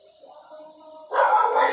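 A dog outside the house barks and yips, a brief whining tone followed by a louder, sharper burst of barking, heard alone at moderate distance.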